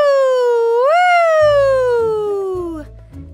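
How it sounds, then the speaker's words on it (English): A loud cartoon siren wail rises sharply, then slowly falls over a few seconds, with low thumping noises underneath toward the end. "The sirens blare."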